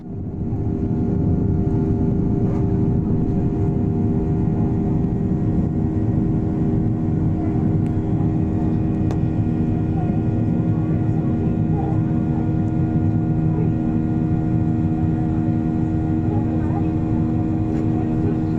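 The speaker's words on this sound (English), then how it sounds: "We took off out of East Midlands for what I believe was an on-time departure" Steady, loud cabin roar inside a Ryanair airliner climbing out after takeoff from East Midlands, a continuous broadband engine and airflow drone with low hum that holds unchanged throughout.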